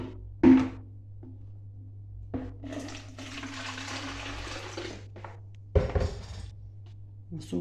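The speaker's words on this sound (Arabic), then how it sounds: "انا كده هصب عليهم الحدق بتاعهم كده للاخر اهو" Pickling brine is poured over olives into a glass jar in a splashing stream lasting a couple of seconds, set between sharp clinks of the jar in a quiet room.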